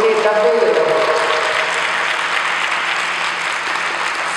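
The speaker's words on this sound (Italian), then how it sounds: "È appena entrato Giuseppe Papi e vorrei che faceste un applauso" An audience at an archaeological excavation report applauds Giuseppe Papi, a dense, steady round of clapping heard up close that gradually softens, with a faint voice underneath at the start.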